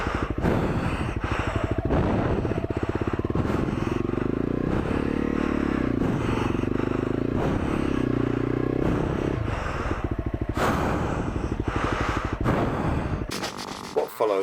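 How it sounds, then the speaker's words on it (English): Honda CRF250L dirt bike labouring off the track, its engine droning loud and steady with uneven revving and rough scraping clatter throughout, close to the microphone. "What follows is a ridiculous struggle involving being off the bike and back on the bike and paddling and pushing and shoving"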